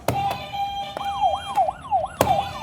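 A quiz buzzer at a student roundtable gives off a wailing, rising-and-falling tone like an ambulance siren, repeating over several cycles, with a few sharp knocks or taps cutting in.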